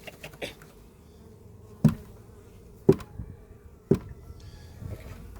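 Carniolan honey bees buzzing during a package installation, a soft steady hum with a few sharp knocks of hive equipment punctuating it at regular intervals.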